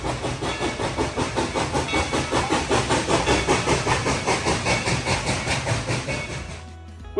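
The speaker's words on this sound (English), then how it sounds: "We just saw the train go by." A Dollywood steam train passing close by, its loud rhythmic chuffing and rolling clatter holding steady for several seconds with a hissing wash, then dropping off abruptly near the end, no voices.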